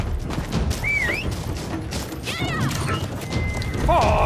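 Horse sounds in the video game Conqueror's Blade, with hoofbeats and a whinny amid battle noise, clanking mechanisms and scattered clashes, all fairly busy and mid-distance.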